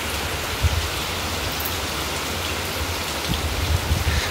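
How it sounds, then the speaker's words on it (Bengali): Heavy rain pours down steadily in a continuous broadband hiss, with occasional louder low thumps of drops hitting a nearby surface; no voices are heard. "বৃষ্টির আওয়াজটা একবার শোনো, ভীষণ বৃষ্টি হচ্ছিল"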